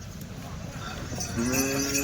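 Bulls at the Chalisgaon bull market give a drawn-out, low bellow near the end, rising over a steady murmur of crowd and market noise.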